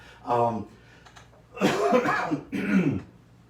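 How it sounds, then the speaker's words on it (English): Several loud, close coughs in quick bursts, one rougher and throatier than the others, with short pauses between them. "I realized that it's so loud when I cough."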